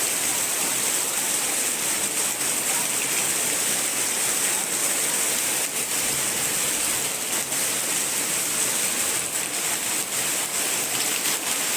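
A constant, dense rush of heavy rain mixed with floodwater flowing along a road, unbroken and loud throughout, with no voices.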